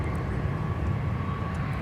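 Aircraft taxiing at MSP airport: a steady, loud engine drone with low rumble and a faint whine, held throughout a short span with no voices.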